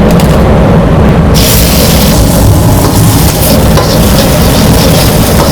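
An egg fries in hot oil in a wok, a loud, dense sizzle that crackles steadily throughout with no voices.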